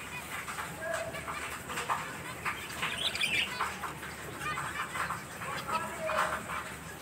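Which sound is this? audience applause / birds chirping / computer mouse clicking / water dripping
birds chirping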